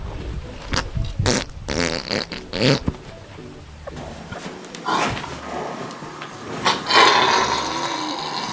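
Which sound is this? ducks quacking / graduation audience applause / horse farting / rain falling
horse farting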